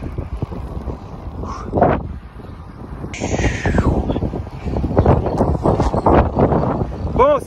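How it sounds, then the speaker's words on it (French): Strong headwind buffeting a cyclist's microphone on a road ride, a constant low rumbling roar that swells and gusts throughout, with someone talking in French over it. "il y a un sale vent, pleine face"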